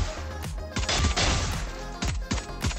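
Pistol shots in the Valorant video game, fired one at a time in a steady, measured rhythm. Sharp, loud cracks with short gaps between them, and no talking.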